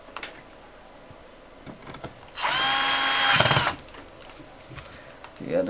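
A power drill drives a screw back into the casing of an Elo ET1515L touchscreen monitor, one close whirring burst of about a second amid quiet handling noises.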